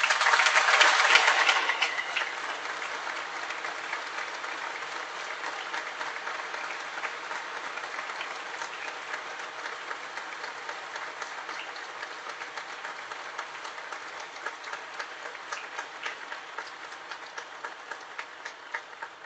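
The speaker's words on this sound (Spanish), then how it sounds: "Le damos un fuerte aplauso a Dios." A congregation applauds inside a cathedral during a memorial Mass, a broad sustained wash of clapping that swells at the start, then holds steady and reverberant for nearly twenty seconds.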